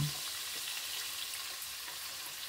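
Soy sauce poured over sautéed squid in a hot pan for adobong pusit, giving a steady, close, even sizzle that holds for the whole stretch with no one speaking.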